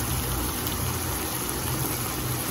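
Water, 200 ml, poured steadily into a pan of vinegar for a low-carb pepper sauce, giving a continuous close rushing splash that stays even throughout with no talking.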